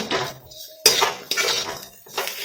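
Fresh green peas tossed with a quarter spoon of salt in a pan, producing clinking scrapes of a spoon against metal with a sharp clatter near the middle, close and fairly loud.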